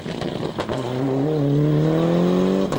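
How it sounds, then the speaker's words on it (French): Toyota Celica GT-Four rally car on a tarmac rally stage, its engine note rising steadily as it accelerates hard past close by, loud and continuous with a strong harmonic growl and no talking. "Didier Duquesne ici avec cette Toyota Celica GT Fort terminera 7e."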